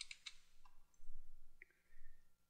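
Computer mouse clicks during website building in Flash CS3: a few soft, isolated clicks near the start and a faint tick later, over a low hum, quiet and close, with no talking.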